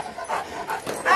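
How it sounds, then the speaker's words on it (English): A big dog pants and whimpers in short breathy bursts close by, with people talking around it. "There's a big doggy."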